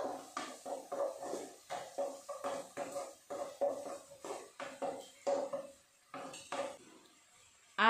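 Turmeric and chili powder being stirred in a pan for a Nepali-style egg curry: rhythmic, close scraping strokes of a spoon against the metal, about a dozen in a row, then a pause, with no voices.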